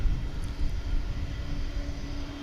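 An airliner taxis at DFW International Airport, a steady low engine rumble and whine heard from a distance with no distinct events.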